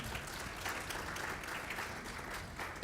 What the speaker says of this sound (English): I'd like to ask you to give these young ladies a big round of applause